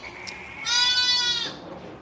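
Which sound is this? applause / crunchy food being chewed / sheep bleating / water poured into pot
sheep bleating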